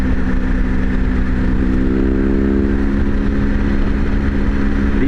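An adventure motorcycle, heavily loaded, rides along a road near Death Valley, its engine droning loudly and continuously up close with steady tonal harmonics and wind rumble underneath.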